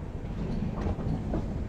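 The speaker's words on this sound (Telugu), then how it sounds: "మన ట్రైన్ అనకాపల్లి నుంచి డిపార్ట్ అయిపోయిందండి" The 18521 Tirumala Express runs on after pulling out of Anakapalli, heard from inside a crowded general coach as a low, steady rumble with soft rhythmic clatter, close and continuous with no talk.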